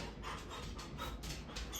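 A puppy pants in quick, steady breaths close by, a soft rhythmic huffing that runs through the whole moment with no talking over it.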